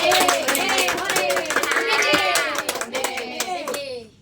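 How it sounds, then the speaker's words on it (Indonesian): Schoolchildren in a classroom clap together for a classmate during a maths lesson, brisk close hand claps mixed with lively children's voices and chatter. "tepuk tangan untuk Queen."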